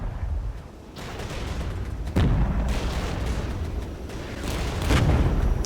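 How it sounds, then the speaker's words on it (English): Artillery gunners firing in the war game Regiments, deep booms and bursts over a continuous rumbling battlefield din, with a sharp blast near the middle and another swell toward the end. "Gunners can fire away while the Su-25s come in overhead."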